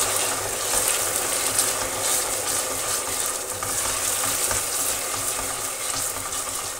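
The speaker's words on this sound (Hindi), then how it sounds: "इसको हम अच्छे से भून लेंगे।" Turnips frying in a pan, a loud continuous sizzling hiss with faint stirring textures running steadily throughout, up close and without speech.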